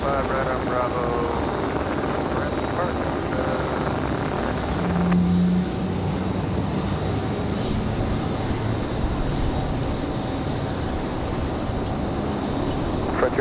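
A Frontier airliner departing at Raleigh Durham airport, a steady broad engine roar heard at a distance, continuous throughout with a voice talking briefly over it.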